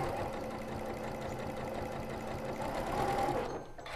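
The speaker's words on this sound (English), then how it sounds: "And then you can sew, and I'm using the right edge of my presser foot to align these." A sewing machine runs steadily, stitching quilt trapezoid units along the presser foot edge, a continuous close mechanical whir that stops abruptly near the end.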